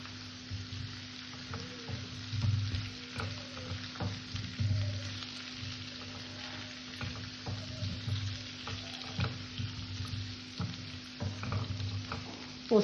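Potatoes fry in a pan with chopped tomatoes and poppy seed paste for an egg-and-potato posto dish, giving a steady soft sizzle with occasional stirring scrapes and no talking.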